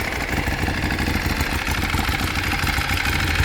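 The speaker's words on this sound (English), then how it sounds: "Typical Ducati sound." A 2010 Ducati Streetfighter S idles close by, a loud, steady, lumpy engine rumble with an uneven throbbing beat throughout and no voices.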